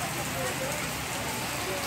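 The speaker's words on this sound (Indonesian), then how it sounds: "Hujan." Steady rain falling outdoors, a dense even hiss of drops on surfaces, continuous and fairly close, with no talk over it.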